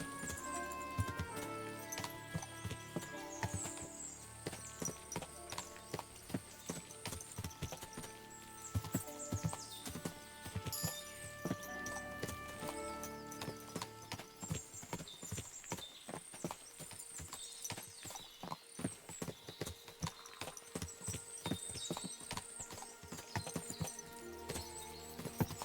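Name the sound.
horses clip-clopping in Kingdom Come: Deliverance II video game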